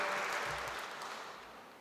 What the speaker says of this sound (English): I hope you will applaud for this